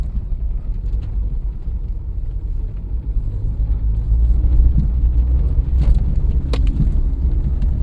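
A Daihatsu Be-Go, also sold as the Toyota Rush, climbs uphill past a favourite rock near water, its engine giving a steady, loud low rumble that swells slightly midway, with no voices.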